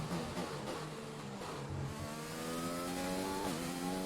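An F1 car from the F1 2020 video game runs a lap in time trial with a loud, continuous engine note. The pitch climbs through rising gear pulls and drops briefly at a shift.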